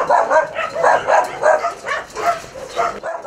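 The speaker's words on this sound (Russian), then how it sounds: "Сейчас в Ласке примерно 600 собак" Many dogs barking at an animal shelter housing hundreds of dogs, a dense overlapping chorus of barks and yips with some whimpering, loud and close, continuous throughout.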